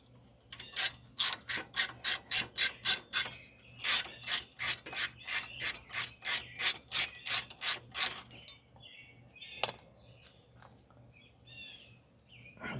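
A ratchet wrench loosens a rear brake bolt on a 2010 Subaru Forester with a rapid run of about twenty crisp clicks, then goes quiet apart from a single clunk, with no talking.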